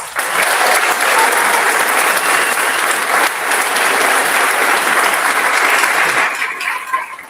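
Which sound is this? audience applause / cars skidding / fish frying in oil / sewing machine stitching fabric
audience applause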